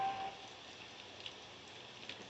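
Rain falls outdoors in a faint, steady patter and hiss, unbroken and fairly distant, with no voices over it.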